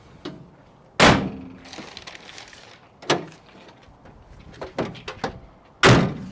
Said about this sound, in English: All right, lock the doors, close it up.